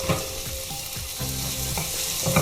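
Onions and tomatoes fry in a pan for a chickpea (kadala) curry, giving a steady close sizzle with soft stirring scrapes throughout and no talk.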